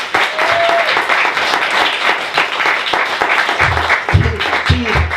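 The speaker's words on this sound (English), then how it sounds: "I think we ought to give him a round of applause." Applause at a radio studio's first live broadcast, a steady patter of clapping from a small crowd lasting several seconds, with a voice coming in near the end.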